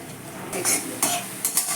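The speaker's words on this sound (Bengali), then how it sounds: "পেঁয়াজ আর চিনি একসাথে ভাজতে থাকবো" Onions and a spoonful of sugar frying in oil in a pan, a soft steady sizzle under a few short scraping stirs, close by.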